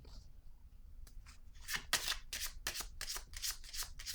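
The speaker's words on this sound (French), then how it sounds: "je vais déposer une autre carte ici" Tarot cards handled and laid down in a series of crisp papery slaps and shuffles, close and fairly quiet, with no talking.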